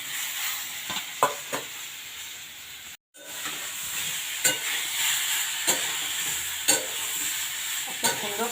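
Boiled vegetables frying in a pan with neem leaves and panch phoron spice seeds produce a loud, continuous sizzle. Sharp spatula scrapes and taps sound every second or so, and the sound cuts out briefly partway through.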